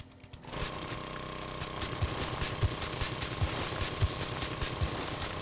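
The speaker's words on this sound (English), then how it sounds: "let's go ahead and auger up" Continuous motorized auger grinding into clay in the video game 7 Days To Die, a steady droning engine-like buzz with rhythmic knocking pulses, close and loud throughout after a brief start.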